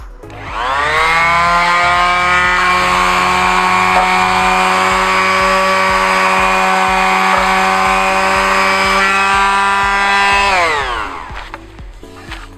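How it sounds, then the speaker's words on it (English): Electric palm sander working a wooden bedframe, a loud, steady high whine with a harmonic buzz that starts up, runs evenly for about ten seconds, then winds down to quiet. "This is not a circular sander, this is a palm sander, so that's why I'm choosing this motion."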